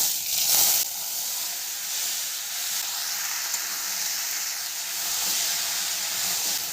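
Chopped tomatoes hitting hot oil already tempered with five-spice and dried red chillies for tomato chutney, giving a loud burst at the start that settles into a steady, close hiss.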